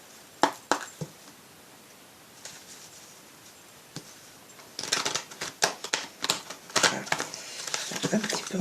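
A deck of oracle cards is shuffled close by, with a few sparse taps and flicks at first, then a dense run of quick crisp riffling clicks toward the end, with no one talking.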